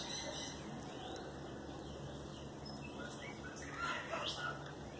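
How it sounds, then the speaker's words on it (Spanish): Small birds chirp and sing outdoors after morning rain, with thin repeated calls at moderate distance over a steady faint background of insects and ambient noise. "espero que escuchen el sonido de unas aves que andan por ahí. Hermoso canto de unos pajaritos"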